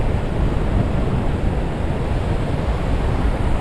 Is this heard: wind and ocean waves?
yes